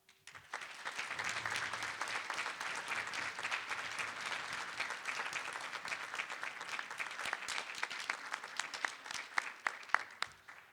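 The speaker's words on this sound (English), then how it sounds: "feel free to give a rousing round of applause" A large audience gives sustained applause for about ten seconds at a workshop panel honoring speakers, dense steady clapping holding even throughout and closing with a few sharper individual claps near the end.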